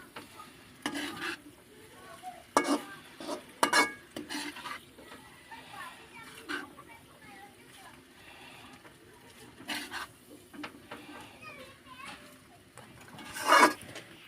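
Maggi pasta being stirred and mixed in a pan, with intermittent scraping and clinking of a spoon against the pan over soft background noise.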